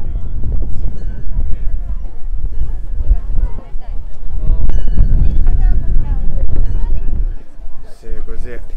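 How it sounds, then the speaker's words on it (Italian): Strong wind batters the microphone at a seaside park in Ibaraki, Japan, a loud continuous low rumble and buffeting that nearly drowns the voices of people talking throughout. "Vento troppo forte qui."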